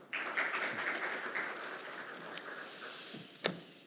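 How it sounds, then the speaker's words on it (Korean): A seated audience at an academic law seminar gives welcoming applause for an introduced panelist, a moderate round of clapping that starts abruptly, holds steadily and fades, with a sharper knock or footstep near the end. "박수로 환영해 주시죠"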